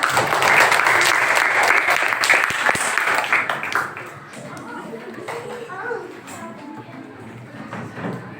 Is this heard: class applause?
yes